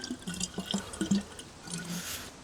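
A DayZ survivor drinks from a pond, with soft slurping, dripping water sounds coming in short bursts, close and fairly quiet, with no talking.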